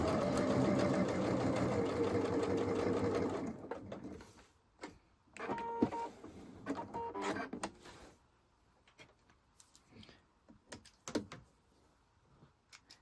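A sewing machine whirs steadily for a few seconds, then stops, followed by short mechanical clicks of the automatic thread cutter and brief bursts of stitching.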